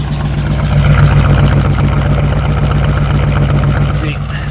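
A 1978 Oldsmobile 403 V8 in a classic G-body car idles with a steady low rumble, running rough and missing on about one cylinder, loud and close throughout.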